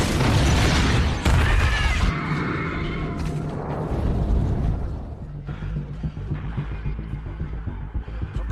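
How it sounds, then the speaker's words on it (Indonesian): A bus blowing up in a film scene: a heavy booming blast with rumbling debris, then a lingering roar that settles into crackling and rattling noise. "bus yang ditumpanginya pun meledak"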